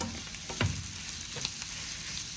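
Onion sugar sambal stirred in a pan over a low flame, a soft steady sizzle with one brief scrape of the spoon, close and fairly quiet, with no voices.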